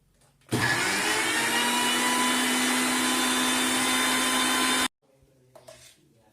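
A mixer grinder blending an Oreo milkshake roars loudly and steadily for about four seconds, then cuts off abruptly, leaving faint handling noises behind.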